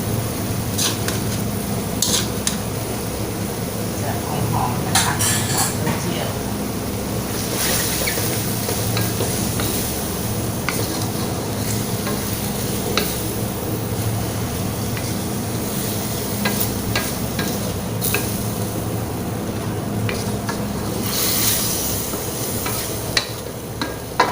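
Morning glory stir-fries with chicken and soybean paste in a hot pan, producing a loud, continuous close-up sizzle with rushing hiss, and repeated scrapes and clinks of a spatula tossing the greens throughout.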